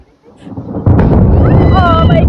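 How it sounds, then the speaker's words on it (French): Thunder booms close and loud at Machu Picchu, a sudden heavy crack followed by a sustained deep rumble, with an excited voice exclaiming over it. "Le tonnerre au Machu Picchu."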